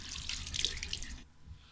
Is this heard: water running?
yes